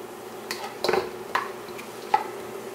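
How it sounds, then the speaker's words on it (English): Vegetables dry-sautéed in a pan with no oil: a few scattered spatula scrapes and light clinks against the pan, quiet and sparse, with no voices. "we're gonna saute that a little bit there"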